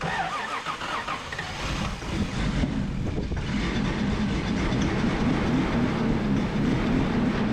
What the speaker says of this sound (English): Get her at high idle, see if it'll run.